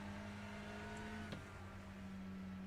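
A race car engine in the iRacing simulator drones steadily at a constant pitch throughout, a continuous onboard engine note with no talking.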